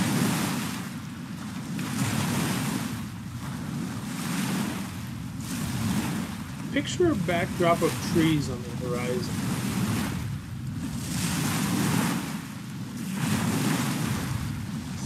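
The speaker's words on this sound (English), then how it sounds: "listening to the waves crash into the shore one by one" Ocean waves wash onto a beach shore in slow, regular surges every couple of seconds, a soft rushing swell that rises and falls, with a calm voice speaking briefly over them midway.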